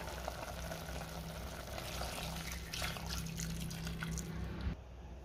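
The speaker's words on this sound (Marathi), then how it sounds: "आणि झाकणामधलं पाणी मी चिकनमध्ये घालणार आहे।" Water from a pot lid being poured into simmering chicken curry, heard as a soft, steady trickle and splash over a low bubbling. It is close but quiet and stops abruptly near the end.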